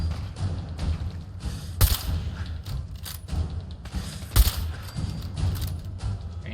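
Fallout 4 video game combat, with several sharp gunshots and thuds ringing out over a busy rumbling background, loud and close, spaced a couple of seconds apart.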